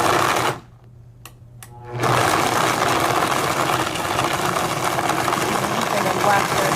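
A kitchen blender switches on at low speed after a short quiet pause and keeps up a steady, close, whirring motor drone. Voices can be heard faintly nearby.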